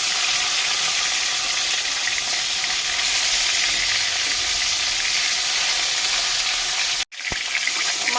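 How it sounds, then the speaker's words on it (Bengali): Fish sizzles steadily in hot oil in a pan for a Bengali flat bean and potato fish curry, a loud continuous frying hiss that cuts out sharply for a moment near the end, then resumes. "তেল গরম হয়ে গেছে, মাছ দিয়ে দিলাম।"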